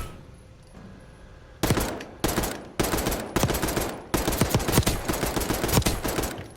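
Gunfire from a gun in Call of Duty Black Ops 6, heard as a quick double shot, then bursts of loud, punchy shots in an uneven rhythm after a quiet start, with no talking.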